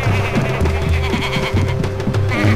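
Sheep bleat repeatedly in the video game Tak and the Power of Juju, a loud, steady string of wavering game-sound bleats with no talk.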